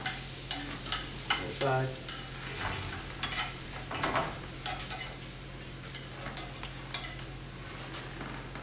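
Pieces of food sear in a hot pan for a pasta carbonara, giving a steady close sizzle with sharp clicks as they are turned over; a voice speaks briefly.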